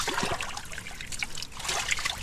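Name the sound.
water trickling while draining a rice paddy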